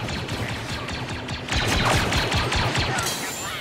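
Rapid video game gunfire from Star Wars Battlefront 2 on PS4 Pro, a dense steady rattle of blaster-style shots that grows louder partway through, with no talk over it.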